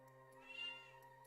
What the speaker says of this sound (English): And my cat is shouting.